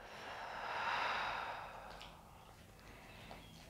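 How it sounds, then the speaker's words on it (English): A long, slow yoga exhale out through the mouth, a soft airy breath that swells and then fades over a couple of seconds, close and quiet, followed by faint room stillness and no speech. "full breath in through the nose, out through the mouth"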